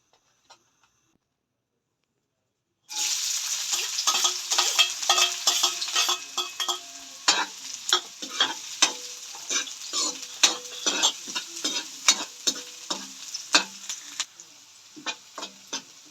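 Garlic and onion sautéing in a pan: after a short silence a loud sizzle starts and runs on, broken by repeated sharp scraping stirs of a utensil against the pan in an uneven rhythm.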